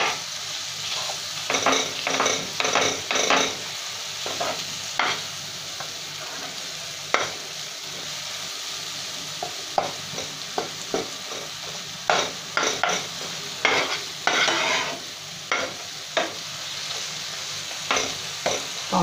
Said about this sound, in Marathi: टोमॅटो छान शिजतो आहे बघा